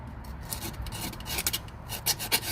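Rough scraping and rubbing on a fuel pump gasket surface during cleanup, close and quiet, irregular bursts of scrubbing strokes that grow sharper toward the end, no speech.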